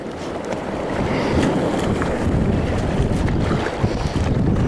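Wind buffets the microphone while waves slap and wash around a kayak near a concrete breakwater of tetrapods at sea, a loud, rumbling, continuous roar.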